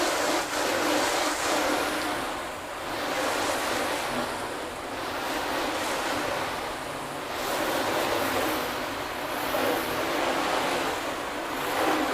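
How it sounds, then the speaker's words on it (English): A car gets its initial rinse with a water spray before a wash, a steady hissing gush that swells and eases in slow waves as the stream sweeps across the bodywork, with no talking. "Okay, so the initial rinse."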